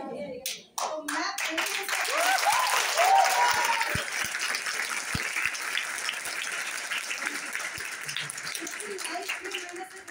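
Audience applause at a live beauty sales session, a dense wash of hand clapping that rises quickly and holds steady for several seconds, with a voice audible briefly at the start.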